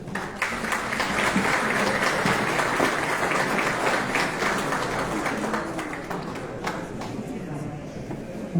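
Sustained applause from an audience at an education lecture in Michoacán, dense steady clapping that fills the clip and fades slightly toward the end.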